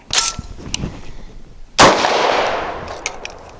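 An HK translucent polymer pistol magazine seats into a DSI Variant 1 pistol with a sharp metallic click, then after a pause drops free and clatters loudly onto a hard surface, the ring fading out.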